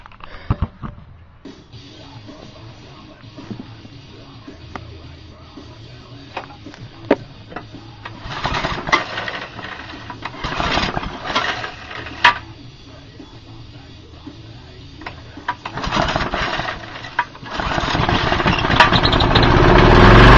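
An old, seized lawn mower engine leaking oil from its exhaust is cranked repeatedly, with bursts of mechanical clatter and sputtering that grow louder and more sustained toward the end, close by with no talking.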